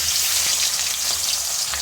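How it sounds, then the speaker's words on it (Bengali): Fish frying in oil, a dense, even hiss of bubbling fat with faint crackles, close and continuous without a pause. "এখন আমি বাকি মাছগুলোকে ভেজে নেব।"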